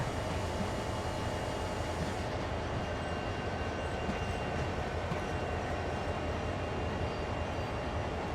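A steady, heavy rumble of a CSX heavy-haul freight train rolling along in a train simulator game, continuous and droning with a faint rhythmic clatter, no voices.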